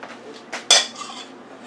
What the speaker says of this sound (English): let's mix that up